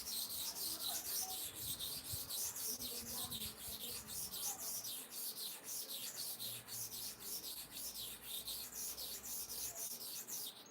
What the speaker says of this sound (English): Now to sharpen the second side here.